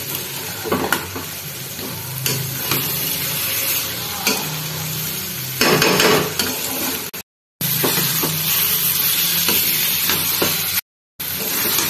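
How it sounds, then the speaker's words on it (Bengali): Hot water poured into a pan of sizzling cauliflower rice masala sets off a loud, steady hiss and bubbling fry, with stirring scrapes and two brief cut-outs to silence. "দিয়ে দেবো গরম জল"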